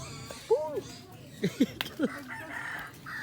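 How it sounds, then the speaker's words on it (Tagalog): A native Bisaya rooster crows in short rising calls, several bursts between clucks and a chicken's squawk, moderately near, with a person talking in the background on a rural outing. "hanap tayo na Bisayang manok"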